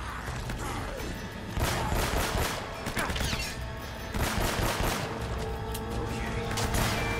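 Rapid bursts of gunfire from a firefight in Uncharted: Drake's Fortune, with dense overlapping shots and impacts recurring in waves across the scene, loud and close, with no voices.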